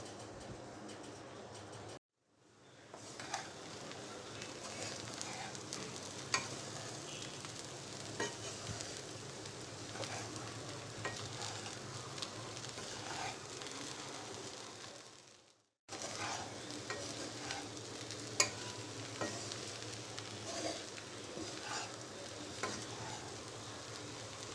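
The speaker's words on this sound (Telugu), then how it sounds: "ఈ మరమరాలని మూత పెట్టి సిమ్లో 5 నిమిషాల పాటు బాగా మగ్గనివ్వాలి." Puffed rice for Rayalaseema uggani cooks under a lid in a pan on low heat, making a soft, continuous sizzle that cuts out briefly twice, with faint bird cooing somewhere in the background.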